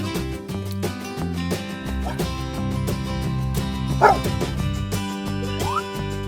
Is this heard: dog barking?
yes